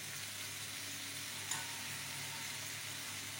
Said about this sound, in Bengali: এরপর মশলাটার সাথে শুটকি মাছগুলোকে ভালোভাবে কষিয়ে নিব।